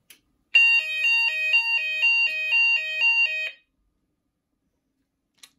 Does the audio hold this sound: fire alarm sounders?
yes